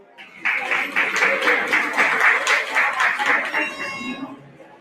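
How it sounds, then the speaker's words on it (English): Applause from a stock show audience at an FFA livestock event, honoring the champion exotics, swelling into a dense steady patter of clapping that carries on for several seconds before thinning near the end, with faint voices underneath. "Let's give our champion exotics a round of applause."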